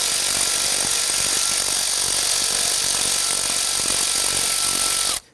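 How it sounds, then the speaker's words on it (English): Bolts are removed from the throttle body of a 2008-2013 Infiniti G37 3.7L V6 with a size 5 hex tool. A close, loud, steady rattling whir with rapid ticking runs throughout, then cuts off at the end. "Using a number 5 Allen, you want to go ahead and remove the 4 bolts holding the throttle body to the intake."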